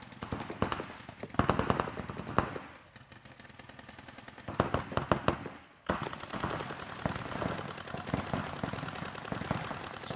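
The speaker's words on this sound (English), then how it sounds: "Shots being exchanged back and forth. Those paintballs are close." Paintball guns firing back and forth during a paintball match, dense rapid bursts of shots from several markers, loud and close, with brief lulls between volleys.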